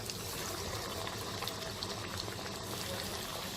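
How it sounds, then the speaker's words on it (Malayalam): Chicken cutlets fry in hot oil with a dense, continuous hiss and crackle, steady and close throughout. "അതുപോലെ അടുത്ത കട്ട്ലറ്റും എണ്ണയിലേക്ക് ചേർക്കുക."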